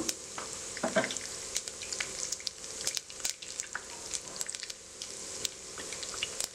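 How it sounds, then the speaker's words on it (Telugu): Mustard seeds, cumin and urad dal sizzle in hot oil, with soft crackling and scattered sharp pops over a steady quiet fry. "ఇందులో నెక్స్ట్ ఆవాలు, జీలకర్ర, ఇంకా మినపప్పు అనేది నేను వేసుకుంటున్నాను"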